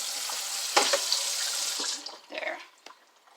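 Tap water runs into a sink as produce is rinsed, a steady close splashing stream that breaks up and fades into a few drips and light handling sounds.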